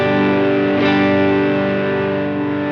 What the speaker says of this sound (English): you'll hear the clean signal and the overdrive together